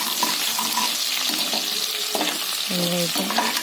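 Chopped dried red chillies and onion sauté in hot oil for a Tamil tomato thokku, an even close sizzle with scattered clinks and scrapes of stirring throughout.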